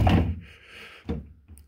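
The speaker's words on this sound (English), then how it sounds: "you can see how easy it is to put the drawers in" A wooden drawer slides into a cabinet on its runners, giving a brief scraping glide followed by a close, solid thunk as it seats, with a softer knock a moment later.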